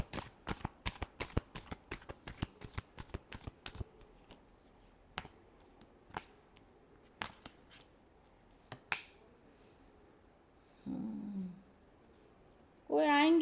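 Tarot cards are shuffled in a rapid run of sharp riffling snaps near the microphone, then come a few scattered single flicks, a brief soft rustle and a short voice at the very end.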